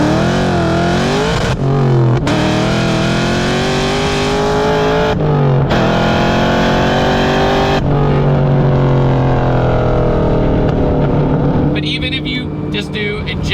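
A 900-horsepower Terminator Cobra pulls hard in third gear from about 60, its engine note climbing loudly and continuously, with brief breaks where the revs drop before surging again, and a voice talking over it.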